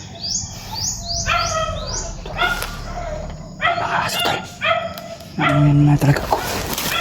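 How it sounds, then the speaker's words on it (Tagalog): Several dogs bark and yelp in short, excited bursts, some calls rising into high whimpers, with birds chirping faintly behind them and someone speaking quietly under the barking. "May mga aso sila."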